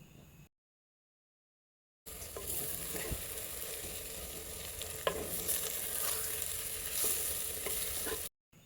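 Spice powders, turmeric and garam masala, fry and get stirred in a hot pan for egg biryani, a close, steady sizzle with scraping stirs, briefly cut off near the start, and nobody speaking.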